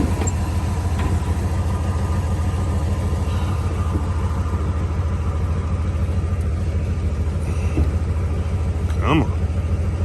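A 1970 Chevrolet El Camino SS idles with a steady, low, throbbing rumble close by, unbroken for about ten seconds, with a few light knocks and handling noises over it.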